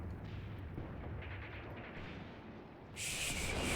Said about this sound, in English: Oh, okay, that's our own artillery for once.